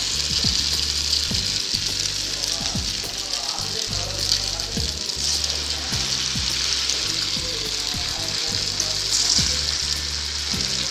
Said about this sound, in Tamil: நீங்கள் மீடியம் ஃப்ளேம்லேயே வச்சு ஃப்ரை பண்ணிட்டே இருங்க